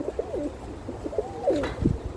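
Birmingham Roller pigeons cooing nearby, a few soft wavering coos in quick succession over a quiet background, followed by a brief flutter or shuffle.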